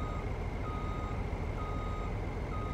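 In Farming Simulator 19, a truck backing up at night gives off steady, evenly spaced electronic reversing beeps over a low engine rumble, repeating at a fixed rhythm throughout.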